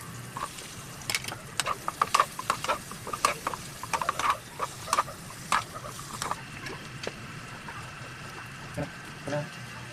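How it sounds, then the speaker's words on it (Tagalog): Fried tofu being stirred and sautéed in a pan, irregular clicks and scrapes of the utensil with a soft sizzle underneath, close by, thinning out toward the end. "Ngayon, sunod na natin yung prito natin kaninang tokwa."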